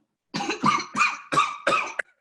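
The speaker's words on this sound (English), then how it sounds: "Did you just fucking cough?" Five sharp, wet coughs from one person in a small studio apartment, evenly spaced across two seconds, close and fairly loud with short pauses between each burst.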